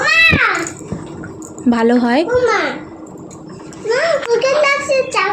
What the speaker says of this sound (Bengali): তো এখন আমি জল দিয়ে দিলাম।